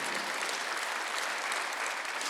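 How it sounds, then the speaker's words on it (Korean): Congregation at a Sunday church service breaking into applause, a dense, even roar of many hands clapping continuously, moderately distant and with no voices above it. "박수 한번 하세요."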